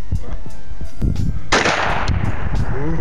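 A single loud gunshot fired at a distant target outdoors, a sharp broadband crack with a short echoing tail, set among people chatting before and after.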